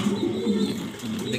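A pet pigeon coos in low, rolling repeated bursts close by, steady and unbroken, with no voices over it.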